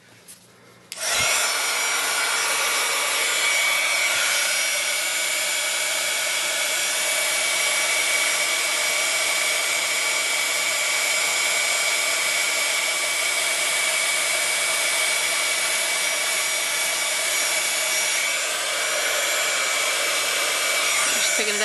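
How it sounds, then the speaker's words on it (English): A heat tool for melting embossing powder on a handmade card switches on with a click and blows a steady, loud, close whoosh that holds unchanged for about twenty seconds. No one talks over it. "we need to, of course, turn on the heat tool again."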